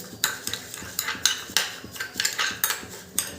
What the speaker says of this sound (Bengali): চা পাতার সাথে ভালো করে শ্যাম্পুটা আমি মিশিয়ে নিচ্ছি